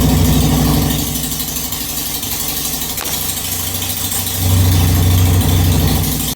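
A 2001 Harley-Davidson Sportster 883 engine idles loud and close with a steady, rattling, lumpy throb that swells briefly near the end. No one speaks.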